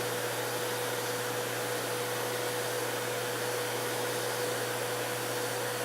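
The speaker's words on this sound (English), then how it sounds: "the air from the vacuum cleaner will suck the seeds into the holes" A vacuum cleaner runs steadily, its air pulling seeds through the holes of a plexiglass seeding plate, giving an unbroken, even whooshing roar with a low hum and no pauses or voices.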